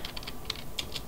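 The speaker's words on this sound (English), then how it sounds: "So you type shop help." Quick keystrokes on a computer keyboard enter a Minecraft server shop command, about six crisp, close clicks in a fast irregular burst with no talk.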